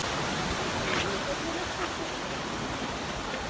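A waterfall in Plitvice Lakes National Park in Croatia roars as a steady, broad rushing wash throughout, with faint voices underneath.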